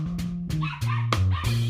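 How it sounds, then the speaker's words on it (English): A dog barks and whimpers up close in a quick series of four or five sharp yelps and whines, with music tones sustained underneath. "Wait, was that my dog?"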